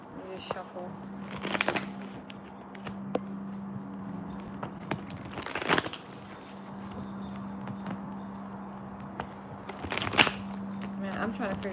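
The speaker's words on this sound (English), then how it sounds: "Let me just shuffle." Tarot cards riffle-shuffled in three quick bursts, close and crisp, with quieter shuffling and handling between them over a low steady hum.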